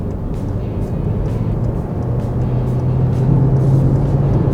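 A car accelerates to overtake a ten-wheel truck on a two-lane road, engine roar rising steadily and loud with rumbling road noise, growing stronger toward the end.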